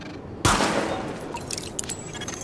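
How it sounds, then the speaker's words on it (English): A sudden loud burst of gunfire from a weapon test in the video game Tom Clancy's The Division, an initial sharp report followed by rapid repeated shots and clinking echoes. "Weapon test initialized. Open fire at the highlighted targets."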